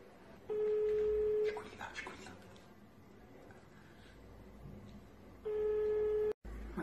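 Ringback tone of an outgoing phone call to a chef, two long steady tones about five seconds apart, with faint background murmur and a brief voice between them.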